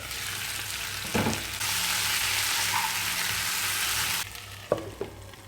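Country chicken fry sizzles loudly in a pan, a steady frying hiss broken by a couple of sharp scraping stirs near the start and again toward the end.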